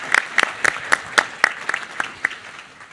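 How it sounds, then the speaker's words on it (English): A panel discussion audience gives a short round of applause, a few sharp, distinct claps at first, then thinning, scattered clapping that fades away by the end. "So I think we can applaud Kaspers."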